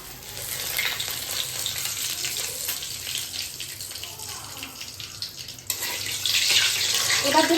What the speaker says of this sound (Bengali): এবার শুকনো লঙ্কাগুলো তেলের উপর দিয়ে দিলাম